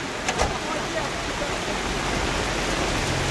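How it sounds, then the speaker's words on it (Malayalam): Rainwater rushes steadily into a roadside drain, a loud, continuous hiss of flowing water with a couple of brief knocks near the start. "ഇതാ ഇവിടെ വെള്ളം പോകുന്നുണ്ട്"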